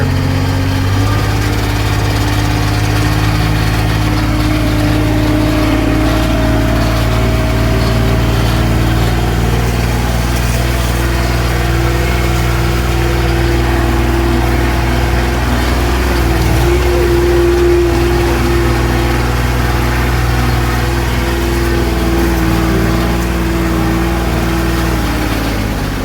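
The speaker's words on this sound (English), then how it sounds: "This buggy sounds like a tractor." A buggy engine chugs continuously like a tractor, a loud, low, rough drone that runs steadily and close for the whole stretch.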